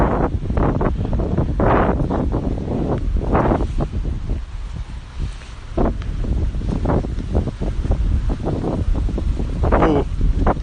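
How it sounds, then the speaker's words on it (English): Stormy wind buffets the microphone outdoors at a deer park in Nara, Japan, a loud, continuous roar with repeated heavy gusts and no clear talking. "how does that windy ASMR feel? Let me blow in your ear some more."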